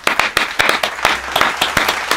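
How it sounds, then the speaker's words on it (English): A small group applauding director Stuart Alexander: sparse, distinct claps close by, a handful of people clapping unevenly for about two seconds. "So, round of applause for Stuart."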